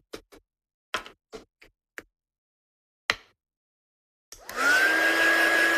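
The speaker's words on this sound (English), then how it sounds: "And then we'll just heat set this one." A handful of sharp taps and clicks come first, then an embossing heat tool switches on and blows a loud, steady whirring hiss of hot air at close range while setting embossing powder, with no talking.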